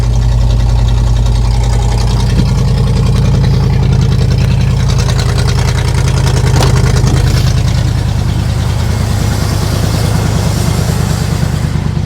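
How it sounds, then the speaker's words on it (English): A squarebody plow truck engine runs extremely loud through a blown-out muffler, a heavy, rumbling, unbroken drone close by for the whole stretch, with no voices. "the back of one of the mufflers is blown out. I did see that. It's extremely loud."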